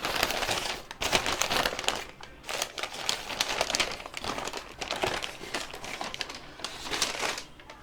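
Crinkling packaging rustles loudly and irregularly as carefully wrapped ceramic items are unwrapped close by, in bursts of crackling handling with brief pauses and no talk.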